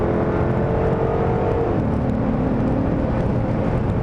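A Dodge Charger Hellcat drives on the Yas Marina circuit, its engine a loud, steady in-cabin drone whose pitch drops as the car slows for braking, with no talk.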